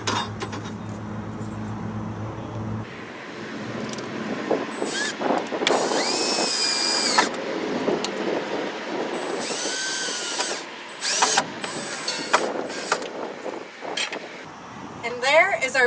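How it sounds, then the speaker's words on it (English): Power drill driving fasteners to mount a wooden mason bee box on a board outdoors, with several loud whirring bursts of varying length after a few seconds of low rumble, close to the microphone. "I'm using a power drill to put it up there"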